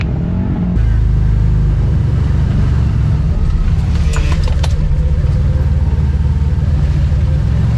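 A CFMOTO UForce 1000 side-by-side fitted with a clutch kit drives in two-wheel drive through a slick spot. Its engine gives a steady, close rumbling drone that runs unbroken for nearly the whole stretch.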